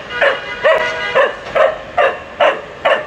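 A dog gives a run of about seven short, whiny yelping barks in an even rhythm, loud and close, with whimpering tones between them.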